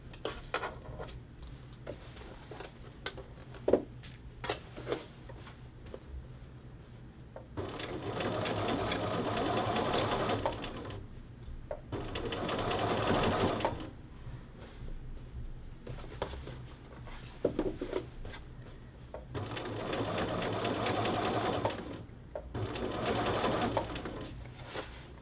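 Sewing machine edge stitching along a men's shirt collar band, running in several sustained bursts of steady mechanical whirring separated by quiet pauses, close and fairly loud with no talk.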